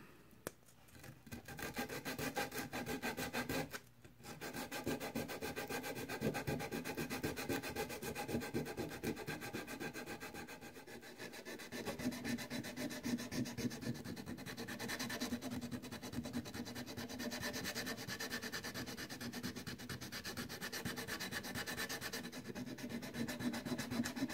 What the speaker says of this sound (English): after a little bit of sanding